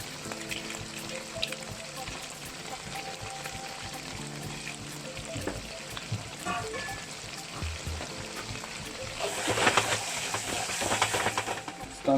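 Dried chilies and Sichuan peppercorns with bay leaf and star anise sizzle in a wok for la zi ji, a steady frying crackle with scattered clinks that swells louder toward the end.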